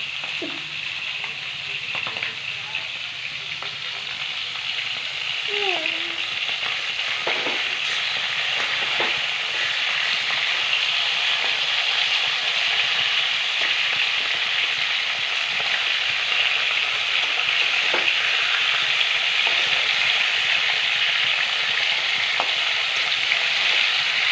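Bhetki fish heads fry in hot oil in a pan with a steady, loud sizzle throughout, broken by occasional soft pops and faint scrapes of a utensil.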